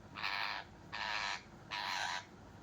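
A pet parrot gives three loud, harsh squawking calls in quick succession, each about half a second long with short gaps, close to the microphone against a quiet room background.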